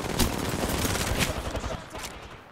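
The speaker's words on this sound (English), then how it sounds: "Being shot at" Rapid bursts of gunfire in an online shooter video game, dense crackling volleys that stay fairly loud and close before thinning out toward the end, with a voice talking faintly underneath.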